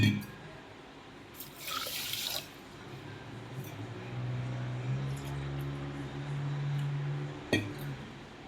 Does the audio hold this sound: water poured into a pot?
yes